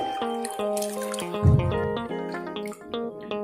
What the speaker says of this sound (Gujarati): હવે તેને આપણે બે થી ત્રણ પાણીએ ધોઈને તૈયાર કરી લઈએ